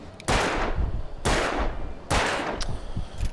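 Gunshots in the video game Alan Wake Remastered, three loud, sharp blasts about a second apart, each leaving a short rumbling tail.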